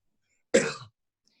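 A single short, husky cough, close by, set against silence.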